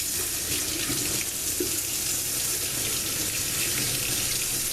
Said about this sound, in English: So then what you want to do is just put some water in it.